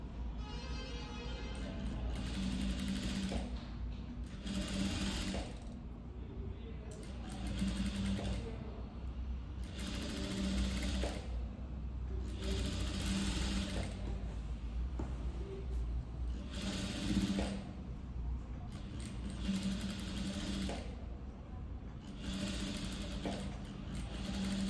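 Sewing machine stitching a princess-cut blouse with a boat neck, a close, steady mechanical whir with repeated short runs and brief slowdowns over about 25 seconds, no talking.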